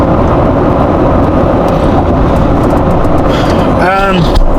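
Inside a moving truck, a steady low road rumble and engine drone fills the cab, with a brief higher whine or squeak rising near the end.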